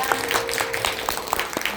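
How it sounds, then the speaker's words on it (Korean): Applause from an audience at a business presentation meeting, heard as steady, rhythmic clapping throughout, fairly close and moderately loud. "다시 한번 큰 박수 부탁드립니다."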